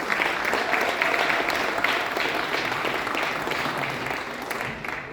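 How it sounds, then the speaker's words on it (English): Steady audience applause fills the room at a Caribbean, African and American community celebration, a dense wash of clapping holding at an even level before easing slightly at the end. "Please give the representatives a round of applause."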